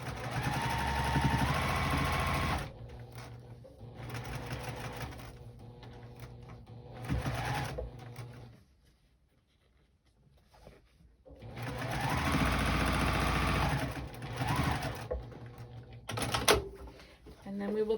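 A sewing machine stitches a quilt block for a wonky star, running in steady whirring bursts close by, stopping in between while a voice talks during the pauses and then starting up again.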